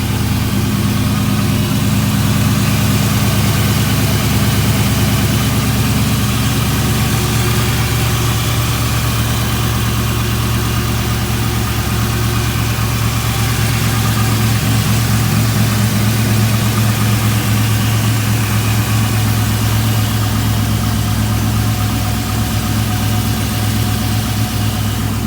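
A 1996 Chevrolet Silverado GMT400 pickup's engine idles steadily and up close, a constant low rumble with a hum that holds unbroken throughout, with no talking over it.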